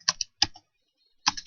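Code is typed on a computer keyboard in three short clusters of crisp, close key clicks separated by a silent pause, with no voices.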